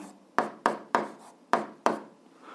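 Five quick, firm strokes of pen or chalk writing out an algebra expression, each one a sharp scratchy onset trailing off, spaced unevenly and close by with no talk.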